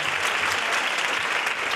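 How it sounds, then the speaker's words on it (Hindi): A church congregation claps loudly and steadily, dense continuous applause filling the room for a couple of seconds. "मैं सब गवाही के लिए जोरदार ताली बजाना चाहूँगा"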